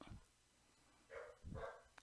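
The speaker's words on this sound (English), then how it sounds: "there goes the dog." A dog barks twice indoors, two short, fairly faint barks about a second apart against a quiet room background.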